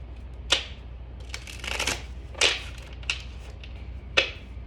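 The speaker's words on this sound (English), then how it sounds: "giving the final shuffle for my Piscean folks." Tarot cards being shuffled, a series of crisp riffling bursts and sharp flicks spread over several seconds, close and fairly quiet with no talk.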